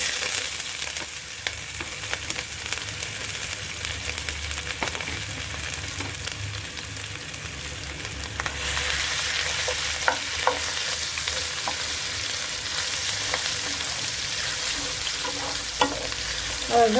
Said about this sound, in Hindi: और अदरक और लहसुन को स्लाइटली ब्राउन होने तक भूनना है।